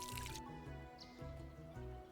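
Watering plants in the game Call of Elyndra makes soft, close liquid squishes and drips in a few short repeating bursts, quiet and with no talk over them.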